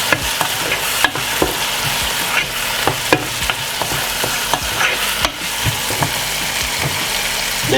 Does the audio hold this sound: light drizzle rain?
no